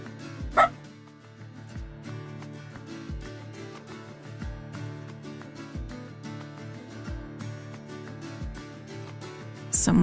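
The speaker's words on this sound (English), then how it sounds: "Bark, bark, bark, bark, bark." A dog barks at someone at the door, with a sharp bark near the start and another at the very end over steady background music.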